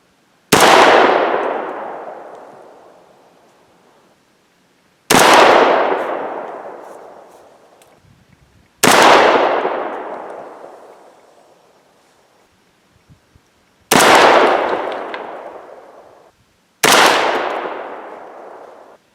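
Five loud gunshots from a 300 Blackout rifle firing lead bullets, each a sharp close report with a long decaying echo, spaced a few seconds apart with no talking.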